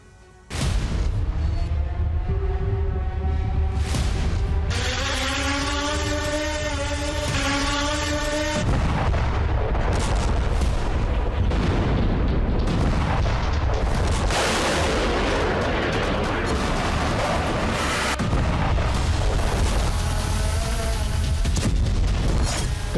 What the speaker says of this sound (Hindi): कर्च ब्रिज की तरफ बार बार बढ़ते ड्रोन और फ्लैमिंगो मिसाइल से क्रीमिया की जमीन पर धमाके।